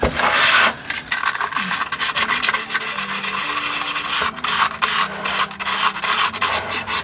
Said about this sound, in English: you're not sanding it down, you're just basically scratching the surface